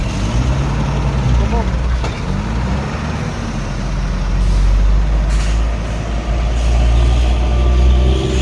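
A heavy truck maneuvers at the scene of an overturned CPO tanker truck recovery, its engine rumbling steadily with an air brake hiss, while people talk over it.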